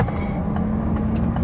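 A Peugeot 2008 Griffe SUV with a 1.6 engine and automatic gearbox drives along, heard from inside as a steady low road and engine hum with a few faint ticks.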